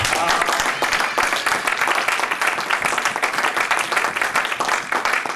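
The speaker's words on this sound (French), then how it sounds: "Nous l'acclamons très fortement." A church congregation applauds loudly and continuously, dense close clapping filling the room without a break.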